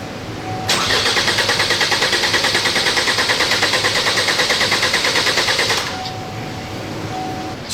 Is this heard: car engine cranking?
yes